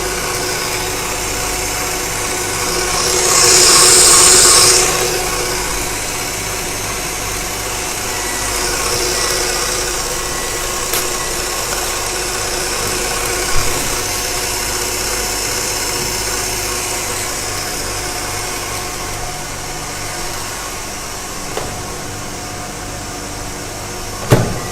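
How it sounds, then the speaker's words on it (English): An electric mixer whisks meringue with a continuous whirring motor hum that swells louder for a few seconds early on, then runs steadily with occasional small knocks. "So I'm not getting the meringue collected in the middle, so that means it needs more whisking."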